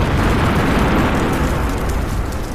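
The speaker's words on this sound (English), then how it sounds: "the aircraft themselves become an enemy of Moscow as they smash into the city, causing more carnage" A massive explosion as aircraft smash into Moscow in a sci-fi war drama, a loud, dense, sustained roar of rumbling blast and debris filling the whole clip without letup.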